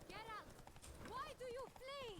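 Horses' hooves patter under narration in The Witcher 3: Blood and Wine, running steadily beneath a voice that talks throughout.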